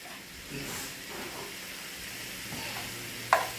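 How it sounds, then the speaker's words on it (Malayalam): Tomatoes going into a pan of biryani masala, cooking with a steady sizzle and frying hiss while being stirred, with a sharper scrape or clatter near the end; no one talks. "തക്കാളി ഇടാൻ പോവാണ് തക്കാളി ഒന്ന് ഒതുങ്ങി വേവണം"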